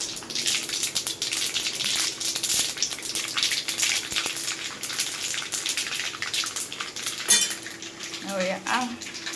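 Mustard seeds, sesame seeds and asafoetida tempering in hot oil, a steady crackling sizzle with scattered pops and clinks of utensils against a pot, close and fairly loud, with brief voices near the end.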